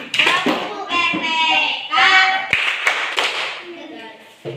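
A group of children clap their hands in quick bursts, mixed with lively young voices chanting and talking close by.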